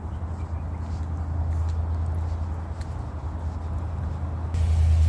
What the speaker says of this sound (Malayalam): വണ്ടി സ്റ്റാർട്ടായിട്ടുണ്ട്